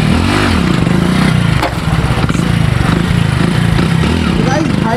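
A superbike roars continuously through a stunt outdoors on a mountain trip, the engine loud and close with its pitch wavering as the throttle rises and falls, a rough mechanical drone throughout.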